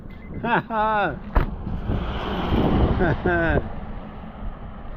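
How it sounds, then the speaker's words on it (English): A car engine cranks and catches on a spare key after the original key was drowned, then settles into a steady idle, with excited voices talking before and after. "Is it going to start? Yes! We have ignition!"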